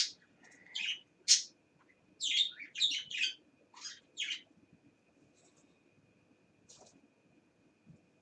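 Small birds chirp and tweet in short bright bursts, several quick calls clustered in the first few seconds, then sparse faint chirps, fairly close with no talking.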